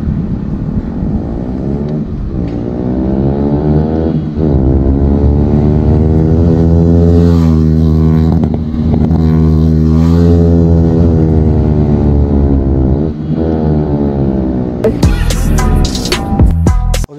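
A motorcycle runs steadily throughout, its engine note rising and falling with smooth harmonic sweeps as it changes speed on a short ride, loud and close, with a brief burst of wind or handling noise at the end.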